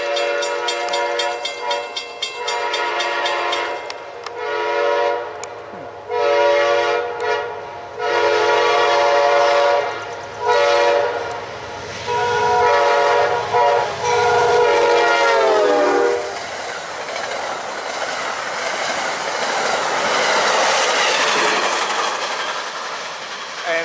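Amtrak train P080 passes northbound, its horn sounding in several long blasts over the rumble of the cars, then a rising clatter of wheels as it rolls close by, with a faint voice in the background.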